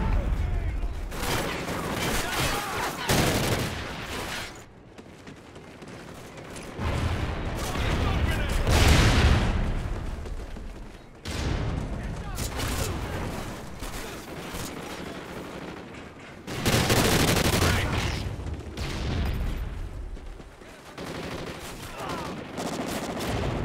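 Vepr submachine gun fire in Call of Duty Ghosts, Cranked mode on the Strikezone map: dense, loud bursts of rapid shots with explosions, and in-game announcer voices talking over the din.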